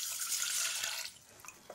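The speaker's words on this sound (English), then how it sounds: "add 200 millilitres of cold water" Cold water poured into a pan of basmati rice, a short hissing splash that fades after about a second into a few faint drips, close and quiet with no talking.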